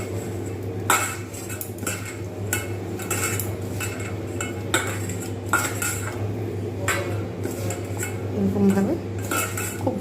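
Batter for bread pakoras with rice flour being mixed in a bowl, a spoon scraping and clinking against the bowl in repeated, fairly close strokes, with a steady hum underneath.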